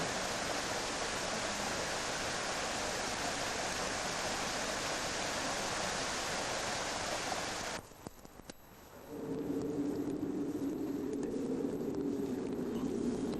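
A mountain torrent flows near a rustic bridge of loose wooden planks, making a steady, full roaring rush that cuts out abruptly near the end, after which a low, even hum takes over.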